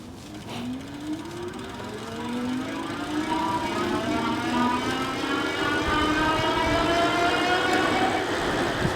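NIU BQi-C3 Pro electric bike riding downhill on throttle, its motor whine climbing steadily in pitch as speed builds, over a continuous rushing wind and road roar, close and fairly loud.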